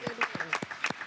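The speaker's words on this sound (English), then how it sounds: "Always clapping for kids." Brief burst of applause at a city council meeting, a handful of people clapping in quick irregular claps for about a second.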